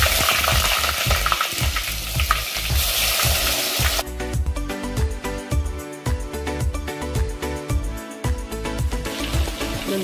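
Stuffed brinjals and potatoes fry in hot oil with a steady, close, crackling sizzle, joined by frequent spatters and stirring clatter throughout.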